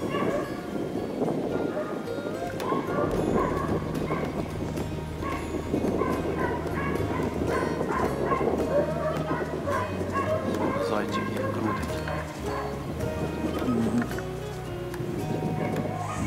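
Hunting hounds bark excitedly over a busy outdoor hunting scene with steady background rumble and other voices, the barking coming in scattered bursts at mid distance.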